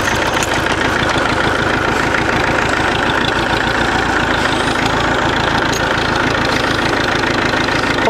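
An old Massey tractor's diesel engine runs steadily after a cold start, a loud, close, continuous idle with a rough knocking chug throughout and no talking.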